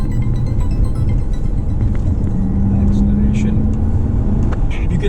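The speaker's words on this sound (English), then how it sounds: "Acceleration. You can feel the sound of the car." Audi RS5 Coupé V8 engine accelerating, a loud low rumble that builds steadily with a rising engine tone, heard from inside the car with a person talking over it.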